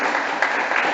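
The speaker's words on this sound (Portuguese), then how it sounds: "E você vai dar uma calorosa salva de palmas para Jesus." Audience applause for Jesus at a Catholic sermon, a dense steady clapping from a crowd that holds at an even level for under a second with no talk over it.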